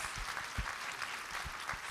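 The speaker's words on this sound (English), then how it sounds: "it deserves an applause" An audience at a television Q&A panel applauds, a dense patter of many hands clapping at steady volume throughout, with a few louder individual claps standing out near the front.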